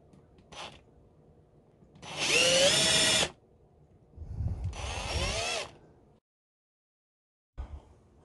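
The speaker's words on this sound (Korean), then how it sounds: "여기 이 위치에다가 지금 구멍을 뚫으려고 하고 있고요" An electric drill boring a hole into a wooden watch storage box, heard in two loud whining bursts of about a second and a half each, with a brief tap before them and a short knock near the end.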